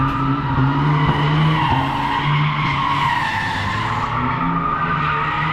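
A BMW E39 sedan drifting on a track with weak front tires, its engine droning loudly and continuously under a steady, sustained tire skid that rises and falls throughout, close and without speech.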